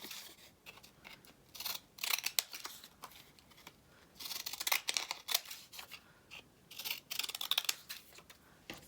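Scissors trimming a paper craft tag beside decals, giving a series of close, quiet snips and paper rustles in short irregular bursts separated by brief pauses.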